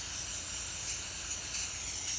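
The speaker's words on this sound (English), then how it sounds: "all we're going to do here is just start spraying in the water" Steady aerosol spray paint hiss as the can is sprayed onto a water surface for hydro dipping, a continuous close bright rush lasting throughout with no talking.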